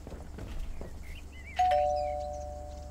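A house doorbell rings in the video game Lake: one clear electronic chime that rings out and slowly decays, following a few faint soft knocks and footstep-like taps.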